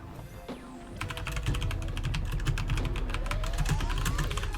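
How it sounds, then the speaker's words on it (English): Rapid typing on a computer keyboard while entering moves in an online Pokémon battle: a dense, steady run of close, crisp key clicks that starts after a brief pause and continues over a low background hum. "I'm typing out that Torn is going to kill Meloetta with Hurricane"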